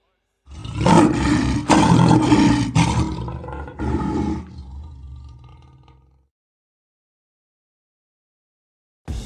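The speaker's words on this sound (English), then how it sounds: "Oh, yeah, the lion's voice." A lion lets out a deep, powerful roar, close and loud, in several heavy surges over about five seconds before fading into silence.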